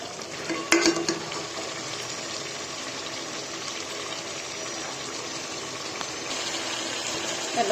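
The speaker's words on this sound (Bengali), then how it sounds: "আমি পানি অ্যাড করে দেব গরম পানি" Hot water is poured into a pan of simmering country chicken curry with potatoes, giving a steady close hiss and bubbling wash with a brief clatter near the start.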